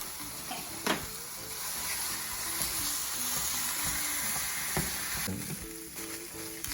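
Ground beef for samosas fries in oil over medium-high heat with a steady close sizzle and crackle, broken by a few sharp pops and light stirring scrapes, with no voices.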